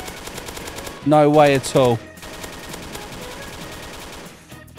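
Rapid weapon fire in a Roblox game rattles steadily in the background as a voice speaks briefly over it, the shots continuing before and after the talk.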